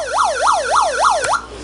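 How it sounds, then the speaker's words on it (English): Electronic siren from a 1/14 scale RC Mustang Shelby GT500 support vehicle, a loud rising-and-falling wail repeating about four times in quick cycles before cutting off. "Next switch is a siren"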